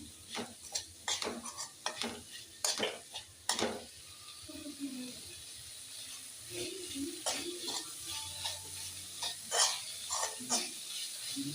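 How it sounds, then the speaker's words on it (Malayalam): Chopped tomato being stirred in a frying pan while making egg curry: soft scraping and clinking of a spoon against the pan over a faint sizzle, quiet and close, in irregular bursts. "ഒരു തക്കാളി അരിഞ്ഞു വെച്ചതും കൂടെ ചേർത്ത് നന്നായിട്ട് മിക്സ് ചെയ്ത് തക്കാളിയുടെയും ഒരു പച്ച ചുവ മാറ്റിയെടുക്കണം"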